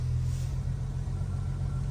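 A Jeep engine, running again after being refuelled, idles with a low, steady hum and rumble nearby, quiet and even.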